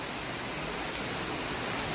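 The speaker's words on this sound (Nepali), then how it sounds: "यो पानी चाहिँ कताबाट झरे हो" Water falling and dripping inside the Millennium Cave near Shuklagandaki forms a steady, dense spattering hiss that stays even throughout, with no voices.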